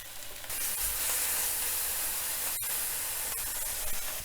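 Beef short ribs sear in a hot pan, a steady broadband sizzle running throughout, with a couple of sharp clicks of the meat being turned partway through.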